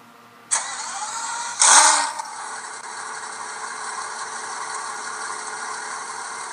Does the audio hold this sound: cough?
no